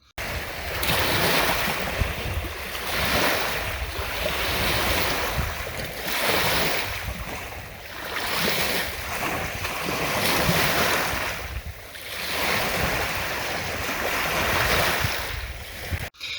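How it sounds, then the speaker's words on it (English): Waves crash onto the shore of Lake Conroe in a slow repeating surge, each loud rolling break swelling and fading every few seconds, with wind buffeting the microphone and no voices. "I took a 15-second clip of the crash of the waves crashing into Lake Conroe"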